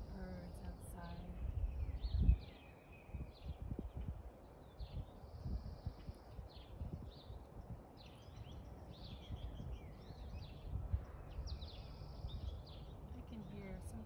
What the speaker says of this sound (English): I hear so many different birds outside.